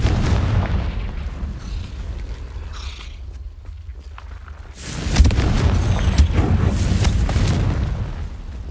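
A Confringo spell explosion in the video game Hogwarts Legacy, a deep rumbling fiery boom that swells midway and trails off amid continuous game effects and ambience.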